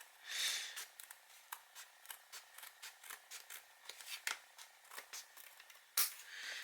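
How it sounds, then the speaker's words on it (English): Repeated crisp snips of scissors cutting through stiff card, steady short strokes close up, fairly quiet with no talking. "I'm just going to use the scissors."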